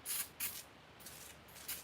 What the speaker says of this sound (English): Now I'm going to spray this with engine degreaser again before I rinse it off.